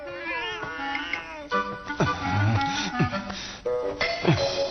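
A cat meows repeatedly with rising and falling wavering cries, close and fairly loud, mixed with people talking in an animated cartoon setting.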